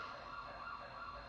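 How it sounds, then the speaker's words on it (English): Faint, distant sirens wailing steadily in the background, a continuous high tone with no other sounds over it. "Excuse the sirens, if you can hear that."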